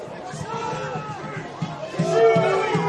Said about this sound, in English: Told to shoot by the crowd.